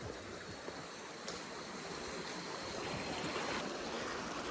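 A stream flowing across a trekking route to Letang, where travellers have to wade over on foot, gives a steady, close, unbroken rush of water with no talking.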